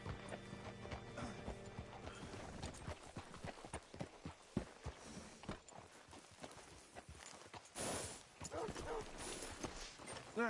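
Horse hooves clip-clop at a steady walking rhythm in Red Dead Redemption 2, close and clear, with a brief whinny-like burst near the end and faint game ambience underneath.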